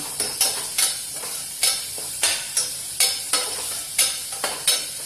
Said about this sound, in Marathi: कांदा थोडासा परतून झाला